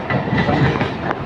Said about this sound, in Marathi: समोर आपली लोकल येते आहे